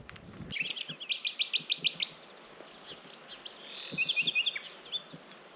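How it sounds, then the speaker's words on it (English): Birds chirp and trill repeatedly in quick bright bursts, with a buzzing bee hum in the background and no talking, at a rural ruin in Portugal. "I can hear the birds and the bees all the time now"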